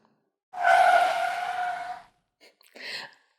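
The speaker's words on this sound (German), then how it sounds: "Ich musste so stark bremsen, dass die Reifen quietschten." Car tires squeal loudly under hard braking, a sustained tonal screech of about a second and a half that fades out, then a shorter second squeal.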